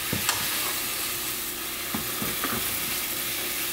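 Ground beef fries in a pan with a constant close hiss and sizzle, broken by a few clicks and scrapes of stirring, with no talk.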